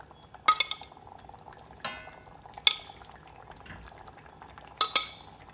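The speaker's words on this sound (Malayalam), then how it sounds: "ഇനി നമുക്കിതിലേക്ക് മുട്ട ചേർത്ത് കൊടുക്കാം." Eggs going into a simmering egg aviyal curry with tomato and chilli: a few sharp clinks and taps of utensils against the pot over a quiet bubbling background, spaced irregularly.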